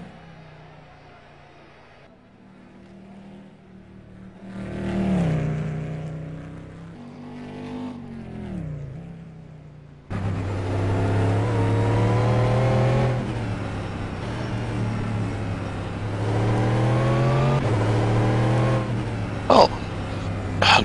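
GT1 Lamborghini race car in a racing video game, its engine droning and revving loudly and steadily with rising and falling pitch as gears shift, alongside other cars, with a brief exclamation from a voice.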